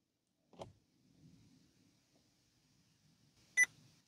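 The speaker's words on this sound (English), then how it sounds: "hold for a few seconds until you hear a beep." A Vauxhall Corsa D dashboard gives a single short, clear electronic beep near the end after a dull click at the start, as the hidden instrument-cluster menu is activated in a quiet cabin.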